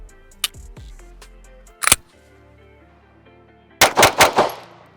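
Handgun shots fired during slow trigger control practice: a sharp crack early, then a separate shot, then a quick burst of several shots near the end, with mechanical clicks and quiet gaps between.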